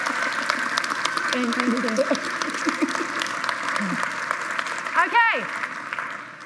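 Applause from a crowd carries on under a speaker's voice, with a brief spoken thanks near the end.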